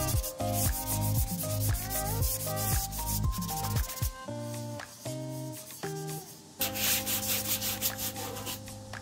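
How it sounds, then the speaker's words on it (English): A 1942 Singer sewing machine cabinet's wood is hand-sanded in steady rubbing strokes, a soft scratchy hiss running under loud tonal music throughout. "And as I'm sanding, I'm just feeling."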